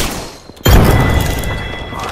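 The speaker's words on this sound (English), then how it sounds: "Grenade out!" A grenade detonates in Apex Legends: a quiet lull, then a sudden loud booming blast that rolls on with a rumbling, crackling tail.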